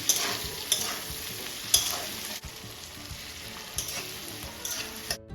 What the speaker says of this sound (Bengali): ক্যাপসিকামটা দিয়ে আর কিছুক্ষণ আমি একটু জাস্ট হালকা সতে টাইপের করে নেবো